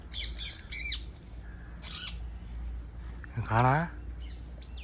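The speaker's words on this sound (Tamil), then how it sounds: "3 கிளி இருக்குங்க, 3 கிளி." Parrots perched near a banana tree on a farm give several sharp, raspy squawks in short bursts, with a steady insect chirr behind them and a brief spoken word.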